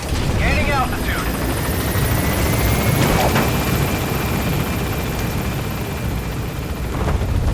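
The B-Quad helicopter in Metal Gear Solid V, a loud, continuous rotor roar with low rumble and a rising whine, gaining altitude and staying close, with brief radio chatter over it.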